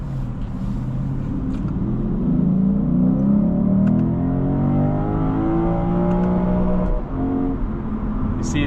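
A 2025 Lexus IS 500 F Sport accelerating hard, its engine note climbing steadily through the revs, then a short pause at the gear change before the pitch drops and builds again, loud and close from inside the cabin.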